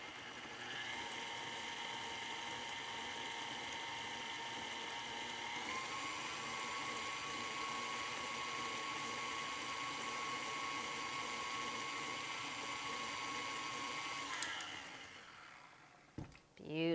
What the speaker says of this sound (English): I'm going to slowly mix it till it comes together.